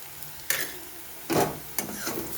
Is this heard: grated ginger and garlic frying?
yes